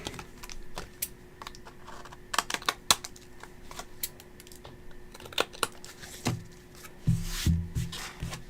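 Paper card stock for holiday scene cards being trimmed, heard as a run of short, sharp cutting and rustling ticks with a few louder snips and some paper shuffling near the end, close and fairly quiet.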